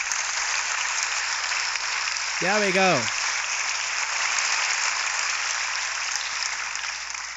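Sustained clapping from a studio audience welcoming guest Tommy, the Green Ranger, on an amateur late-night talk show. It runs steadily throughout, with a brief rising vocal whoop partway in and a short spoken line.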